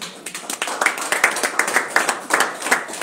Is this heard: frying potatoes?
no